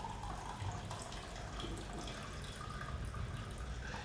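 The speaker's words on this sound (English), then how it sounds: "So pouring my Eva Solo." Coffee poured from an Eva Solo brewer, a steady soft liquid trickle and splash running continuously at moderate closeness with no talking.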